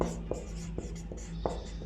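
Chalk or marker writing numerals on a board, with a few short taps and strokes spread across a brief stretch over a steady low hum.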